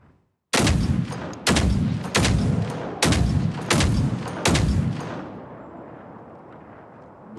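A robot fires sniper shots in the Generation Zero video game, six loud, heavy blasts at an even pace, each roaring briefly before the next, with a fading rumble after the last.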